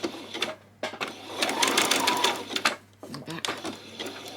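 Sewing machine stitching a zigzag while making a peasant top, a close mechanical whirr in short bursts separated by pauses, with someone talking between and over the runs.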